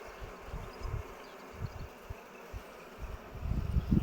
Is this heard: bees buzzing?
yes